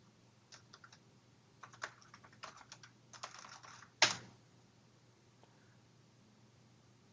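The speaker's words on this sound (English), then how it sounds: "So I'm going to type in fake." Quiet clicks of a computer keyboard being typed on in a home lab, in short irregular bursts of keystrokes followed by one sharper clack and then near silence.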